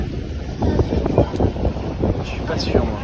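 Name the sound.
motor catamaran boat crossing to the Îles du Salut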